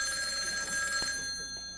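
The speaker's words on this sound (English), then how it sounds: "Is that the phone?" On a talk-show set, a ringing telephone bell sounds steadily through the first second or so, then stops, leaving faint background sound.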